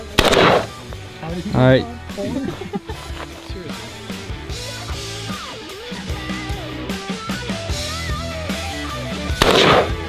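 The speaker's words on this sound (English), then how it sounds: "Where do I shoot the test shot?" Gunshots at a shooting range, a few loud sharp bangs spaced out near the start and end, with people talking in between.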